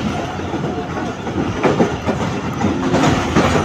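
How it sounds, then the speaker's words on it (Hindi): Train passing through the Khanpur timber market: a steady, loud rumble of rolling railcars with rhythmic wheel clatter and faint squeals, heard from on board. "तो खानपुर टिम्बर मार्केट से इस वक्त ट्रेन हमारी गुज़र रही है गाइस"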